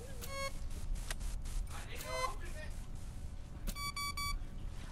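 Fortnite game electronics give out short, evenly spaced series of high beeps in two distinct bursts, crisp and near, over a low background hum and some game noise.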